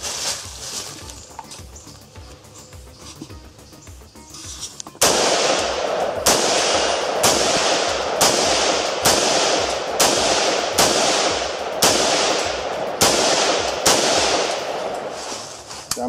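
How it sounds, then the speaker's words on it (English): Sterling SAR-80 assault rifle fired semi-automatically, a run of about eleven loud, sharp reports at a steady pace of roughly one shot every half second or so, following a quieter stretch of background noise. "We'll do a little semi, and then we'll run the magazine out and empty."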